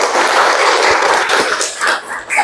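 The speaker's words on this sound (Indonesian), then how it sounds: "Kasih tepuk tangan untuk Namira." A classroom of students clapping for a classmate, a short burst of loud, close applause that fades out after a couple of seconds.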